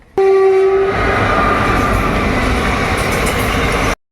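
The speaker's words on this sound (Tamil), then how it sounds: "ட்ரெயின் பார்க்கலாம்" A loud train roars past close by, starting with a short horn blast and followed by a steady rushing rumble before cutting off abruptly.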